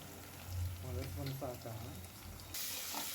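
Onions and ginger-garlic paste fry in a pan for a quick pulao, giving a steady close crackling hiss that swells near the end, with a voice talking over the first half.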